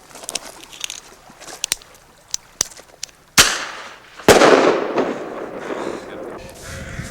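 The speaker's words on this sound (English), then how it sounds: "It's a small pop for the propellant charge. And then when the main charge goes off, it's a loud bang." A bear banger fires outdoors: a small sharp propellant pop, then a loud, booming main charge about a second later that decays into a long rumbling tail.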